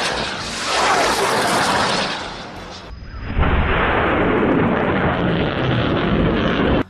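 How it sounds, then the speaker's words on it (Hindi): 114 mm caliber rockets launched from a launcher in Gaza, a loud roaring whoosh of a launch, a short break, then a second sustained rushing roar, heard alone without talk. "114 mm के कैलिबर रॉकेट दागे हैं।"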